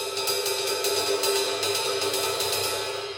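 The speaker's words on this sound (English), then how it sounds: "then you have to play that ride cymbal like that" Steady jazz ride cymbal shimmering in a swinging pattern, bright and washy with regular accented strokes, no voices.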